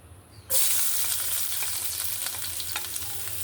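Chopped garlic hits hot oil in a pan with a sudden loud sizzle that then holds as a steady, close frying crackle, with a few light stirring scrapes.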